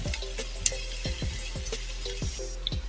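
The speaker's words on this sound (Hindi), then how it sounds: "यहाँ पे हम थोड़ा सा जो है प्याज को सोते करेंगे" Chopped onions sautéing in a pan for samosa filling, a steady close sizzle broken by regular scraping stirs about every half second.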